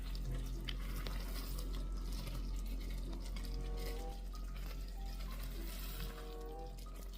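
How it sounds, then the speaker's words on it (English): A thick sugar and cocoa mixture bubbling and sputtering steadily in a pot at a rolling boil, close up, with a constant low hum underneath. "cocoa powder is starting to boil like this. Rolling boil."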